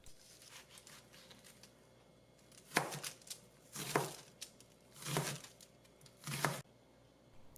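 Knife chopping a medium whole onion into small squares on a cutting board, with scattered bursts of rapid close-up cuts separated by short pauses and quiet handling between them.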